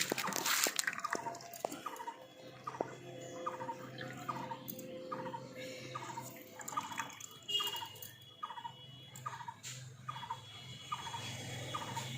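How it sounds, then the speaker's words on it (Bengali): Water dripping and trickling from squeezed chhena curd, a series of small regular drips over a faint background hum, close by, with no talking. "দেখুন ছানা থেকে সমস্ত জলটা আমি খুব ভালো করে নিংড়ে বার করে নিয়েছি।"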